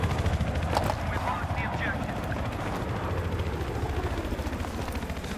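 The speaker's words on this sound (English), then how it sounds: "Helicopters over to you. Chopper's raping me." A helicopter in a Battlefield match on Gulf of Oman roars with a constant loud rotor throb, while bursts of machine-gun fire crackle through it and players talk over the din.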